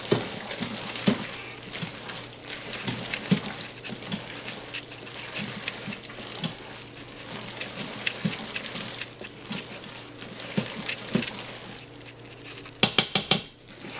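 Macaroni and cheese ingredients squished and mixed together inside a bag for a baked mac and cheese, a steady soft rustle and squelch with scattered clinks, and a few sharper taps near the end.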